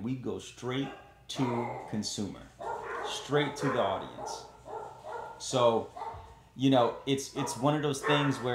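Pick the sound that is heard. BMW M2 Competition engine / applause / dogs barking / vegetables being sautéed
dogs barking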